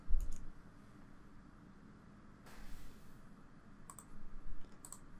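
A computer mouse clicks import in PaperCut, producing a couple of faint, brief clicks against a soft background hiss.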